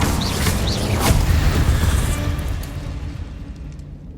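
Incendio and Confringo spell explosions in Hogwarts Legacy, a loud, rumbling burst at the start with crackling debris that slowly fades over a few seconds.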